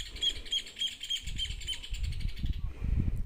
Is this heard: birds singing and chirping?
yes